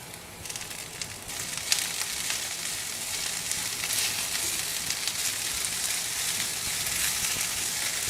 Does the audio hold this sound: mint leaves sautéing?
yes